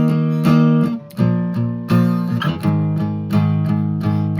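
A guitar verse is strummed in steady chord strokes, each ringing on before the next change, loud and close with no voices.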